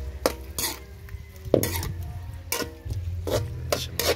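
Clams stirred in a hot pan with a little dried fish, a few sharp scraping and clattering strokes over a low steady sizzle, close by.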